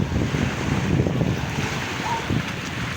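Sea waves washing onto a beach, mixed with gusting wind buffeting the microphone, a steady close roar with soft surges and no clear talk.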